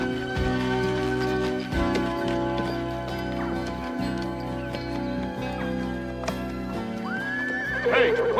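A horse neighs and whinnies among a busy background of rustling and clopping, with a rising squeal near the end.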